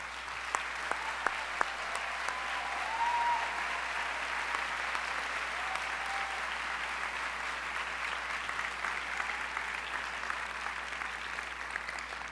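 A large audience applauds honorees for State Principal of the Year at an education summit, sustained even clapping throughout, with a few sharper claps near the start.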